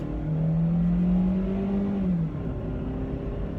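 A Toyota Matrix engine runs steadily while driving, a continuous near hum holding an even pitch with a slight rise before easing off, with no talk over it.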